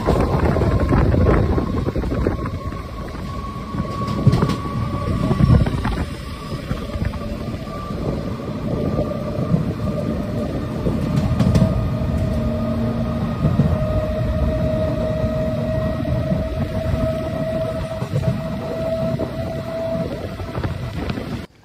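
A MEMU Express train runs out of Chennai Central with a steady low rumble and rattling wheels, thick wind noise, and faint squealing tones drifting throughout, all without voices.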